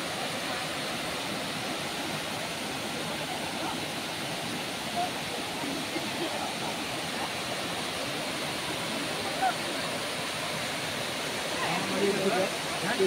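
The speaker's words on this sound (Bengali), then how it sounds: "অযোধ্যা পাহাড়ের অন্যতম শ্রেষ্ঠ দর্শনীয় স্থান হল এই বামনি ফলস।" Bamni Falls in the Ayodhya hills of Purulia roars as a constant, dense rush of falling water, steady and fairly loud throughout with no break.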